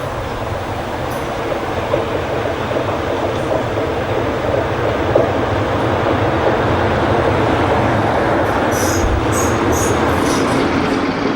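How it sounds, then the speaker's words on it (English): A loud, continuous rumble of a British Rail Class 45 diesel locomotive, 45136, arriving close by with a Nottingham to London train, steady engine roar and faint squeals of wheels near the end. "Next, 45136 arrives with a Nottingham to London train."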